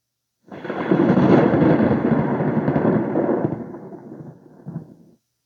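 Deep thunder rumbles for about five seconds, loud and broad at first, then slowly fading, with a final low swell before it dies away.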